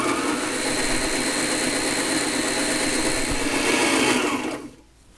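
A Sailrite LS-1 basic walking foot sewing machine runs in one continuous, loud, close whir of stitching, then cuts off just before the end.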